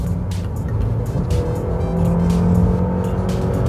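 Honda Accord G9 sedan accelerating hard through a corner, a steady loud engine drone with rising revs and faint tire noise, close and continuous with no talk.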